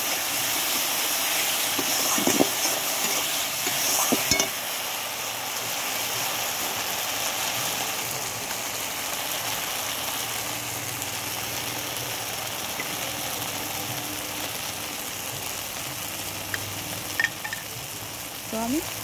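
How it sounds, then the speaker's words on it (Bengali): Turmeric powder and spices sizzle steadily in hot oil as they are stirred, with a few scraping stir strokes near the start over a continuous close frying hiss. "হলুদ গুঁড়ো, এটাকে এখন আমি মিক্স করে নেব।"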